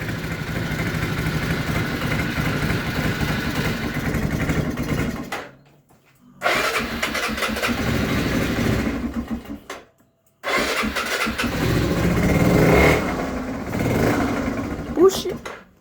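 A rototiller engine fires up and runs with a rough, mid-pitched chug, cutting out twice and quickly restarting, while people talk nearby.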